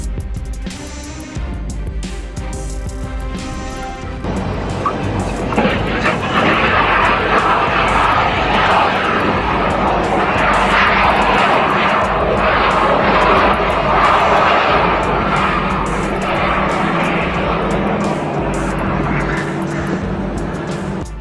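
An aircraft engine roars during a carrier landing off Australia's coast, building from a lower drone into a loud, sustained, rough roar that holds to the end.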